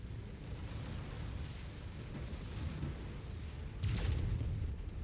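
A low rumbling explosion as a destroyed mech's reactor goes up in MechWarrior 5, rising out of steady battle noise into a heavier boom near the end, moderately distant and muffled.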